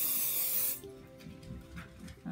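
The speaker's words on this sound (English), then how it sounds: "And I'm just spraying where my sleeve will be going." A can of 505 temporary fabric adhesive spray lets out a short, close hiss lasting under a second, followed by quiet rustling of fabric.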